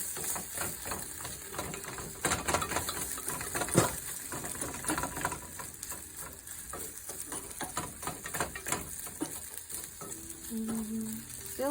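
Potatoes with onion powder frying and browning in a home kitchen pan, giving a steady moderate sizzle with occasional stirring scrapes and clinks, with no voices over it.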